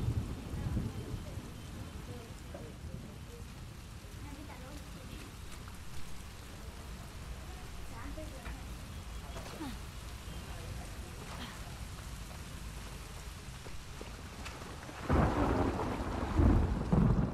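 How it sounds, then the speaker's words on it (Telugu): Thunder rumbles and rain patters in The Last of Us Part 2 on PS4 Pro, a steady low roll of storm noise with a louder, closer burst of thunder near the end. "ఆ ఉరుముల సౌండ్ అలాగొస్తుంది హెడ్ ఫోన్స్లో."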